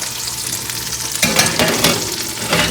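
Redskin potatoes going into a hot pan to cook, a steady sizzle that jumps louder as they drop in, with stirring and scraping noises, close and without talk.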